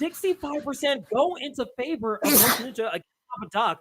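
A single sharp sneeze bursts out close to the microphone, mid-conversation during an esports fantasy league show. Commentators keep talking before and after it.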